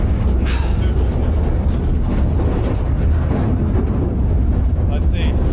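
A locomotive-hauled train rolling past close by, a loud, continuous rumbling roar filling the whole stretch with a few brighter squeals near the end.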